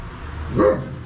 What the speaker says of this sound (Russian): тут собачка, пойдем, не будем ее дразнить